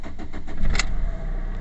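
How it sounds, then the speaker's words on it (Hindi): A Fiat Linea's engine cranks and fires, then settles into a steady idle, close and fairly loud with a faint metallic jingle partway through. "गाड़ी स्टार्ट करके देखते हैं"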